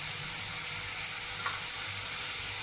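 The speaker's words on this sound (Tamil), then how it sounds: "நல்லா வதக்கணும் பொன்னிறமாக" Onions fry in oil toward golden brown, a steady, faint hiss of sizzling with one brief scrape of a spatula midway.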